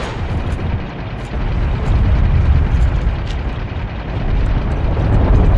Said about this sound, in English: friendly tank just blew up enemy tank